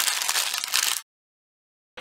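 Sheets of paper are crinkled up quickly for a recycled box-cover craft, giving a dense, close crackling rustle for about a second before silence, then a brief resumption at the end.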